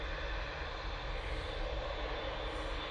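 A Boeing 787-8 Dreamliner departs Manchester Airport for Cancun, its engines a steady, broad roar that holds at even loudness throughout, fairly distant and with no voices.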